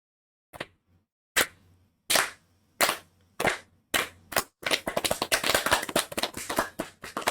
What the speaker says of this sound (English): We did just clap a lot.